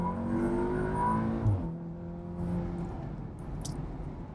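A 2016 Volkswagen Golf R MK7 with a catted Bull-X downpipe pulls away, its engine note climbing in pitch then dropping at a shift before rising again, heard from inside the car with a steady road hum.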